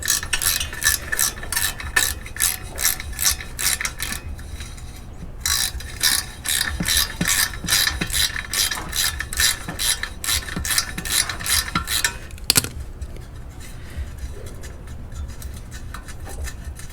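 A ratchet wrench with a 12mm deep socket clicks steadily in rapid bursts while loosening the exhaust nut bolted to the engine of a 2021 Honda CRF110 motorbike, pausing briefly between strokes, close and loud.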